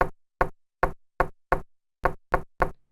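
Eight quick, sharp knocks on a watermelon in a steady rhythm with a short pause midway, close and clear, trailing into faint wind noise at the end.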